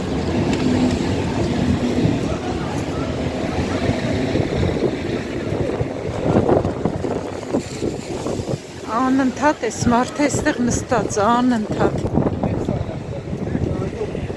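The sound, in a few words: strong wind blowing on the street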